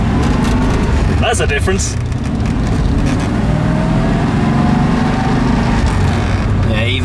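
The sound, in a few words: V8 car engine accelerating on the road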